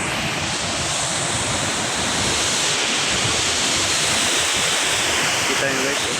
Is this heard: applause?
no